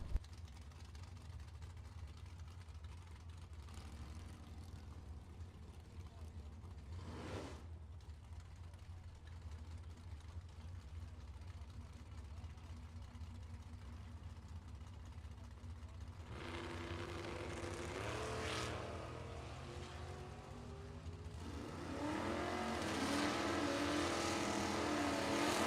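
A Chevrolet Camaro drag racer at a bracket nationals event idles in a low rumble for a long stretch, with brief mechanical bursts, then its engine swells louder into the launch near the end.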